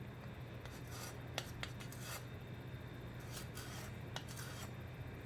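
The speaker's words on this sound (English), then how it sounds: "you can just scrape it across this little thing here to level it off" A measuring spoon of baking powder is leveled by scraping it across an edge: a series of short, quiet rasping strokes at an irregular pace over a low steady hum, with no voices.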